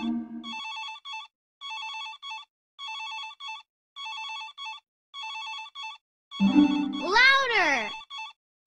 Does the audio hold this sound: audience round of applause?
no